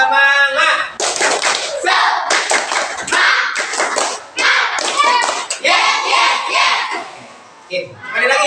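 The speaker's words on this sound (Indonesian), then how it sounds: "kita tepuk semangat dulu bareng-bareng ya" A classroom group performs a rhythmic clapping chant, sharp bursts of hand claps in quick patterns alternating with children's voices chanting along, loud and close with short pauses between phrases.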